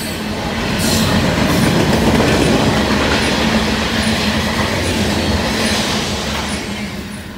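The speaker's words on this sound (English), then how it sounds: "Boy, he was moving right along for a heavy train" A heavy freight train rushes past close by at speed, a loud continuous roar of rolling wagons with rhythmic clickety-clack of wheels over rail joints and faint squeal, swelling then easing slightly.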